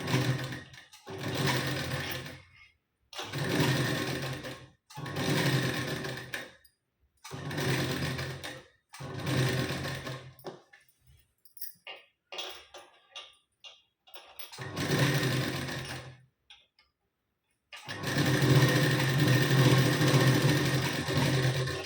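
A sewing machine stitches a blouse sleeve in bursts of rapid, steady mechanical whirring, about eight runs of two to three seconds separated by short pauses, close and clear with no talk.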